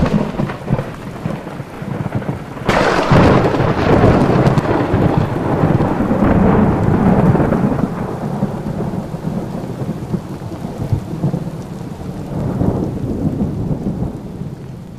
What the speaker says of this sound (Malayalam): ഒടുക്കത്തെ കാറ്റും മഴയാണല്ലോ വരുന്നത്